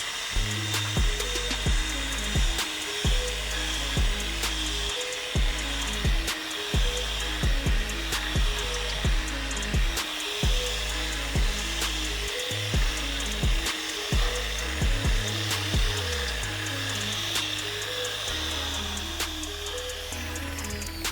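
A power sanding pad works the yellowed headlight of a Kia K3 with a steady, close motor drone, pulsing rhythmically as the pad sweeps back and forth across the lens without pause.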